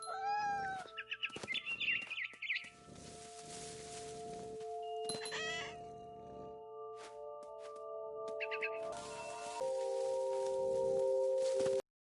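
Several short cat meows in the video game What Remains of Edith Finch, electronic and game-like, rise over a steady synthetic tone and chiptune-style music, with bursts of bird chirps mixed in.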